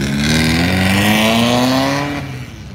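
A small car revs loudly at a Cars and Coffee show in Las Vegas, its engine note rising steadily over about two seconds, then easing off as the sound fades slightly.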